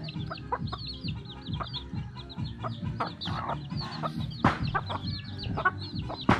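Several chickens cluck steadily close by in short repeated bursts, with a few higher calls over a busy farmyard background.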